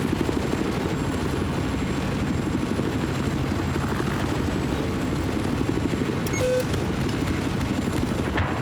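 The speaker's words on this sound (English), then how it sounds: "the helicopter in this 8v8, very essential" In a Battlefield 4 8v8 multiplayer match, a helicopter's dense rotor and engine drone fills the scene continuously, with faint gunfire crackling beneath it.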